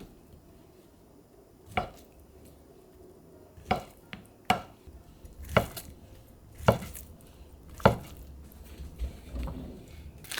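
A knife slices through a cucumber on a cutting board with about ten sharp, separate chops at an uneven pace, close and clear against a quiet kitchen.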